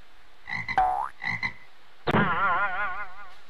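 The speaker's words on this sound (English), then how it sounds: "Oh, frogs." Cartoonish frog croaks from the Fancy Pants Adventure World 3 video game sound in short bursts, then one longer warbling, wobbling croak follows, fairly close and alone without talk.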